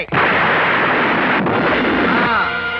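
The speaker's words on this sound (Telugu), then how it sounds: "అది నేను నీ పెరట్లో పాతి పెట్టిన బాంబు" A buried bomb goes off in a backyard during a Telugu film court scene, a loud, sustained roaring blast that fills the moment and then rumbles away.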